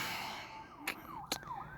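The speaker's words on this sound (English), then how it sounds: "I hear sirens in the background" A distant wailing siren rising and falling in pitch, faint under outdoor background noise with a couple of sharp knocks.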